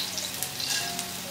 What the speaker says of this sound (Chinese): 接着我们来起锅热油，然后把我们的姜片放进来炒香，接着加入一些胡椒粒